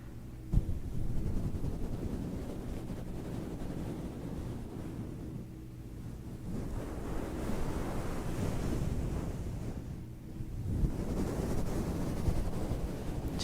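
ASMR microphone pumping creates a continuous rushing, surging roar that swells and eases like ocean surf, close and loud for over thirteen seconds with no talking.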